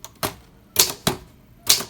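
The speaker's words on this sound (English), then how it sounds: "I'm typing hello. I am a typewriter. My brand is Olympia." Keys strike on a vintage Olympia typewriter in four sharp, clacking hits, spaced irregularly and heard up close with nothing else in the background.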